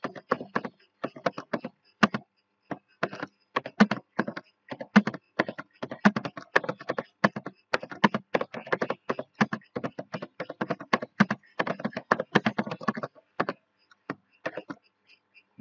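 Rapid bursts of typing on a computer keyboard while writing a multiple-choice document in Microsoft Word, with close, crisp key clicks in irregular runs and short pauses, no talking.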